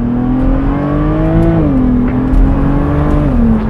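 A BMW E89 Z4 35i engine revs under hard acceleration, a loud, close, steady drone whose pitch rises and falls smoothly as it pulls through shifts, heard from inside the car.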